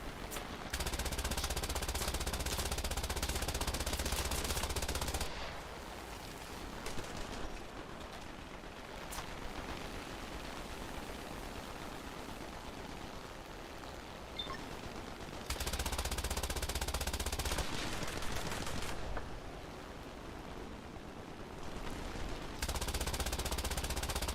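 Biplane machine guns firing in War Thunder, loud sustained bursts of rapid fire at the start, in the middle and near the end, separated by quieter stretches of engine drone and rumble.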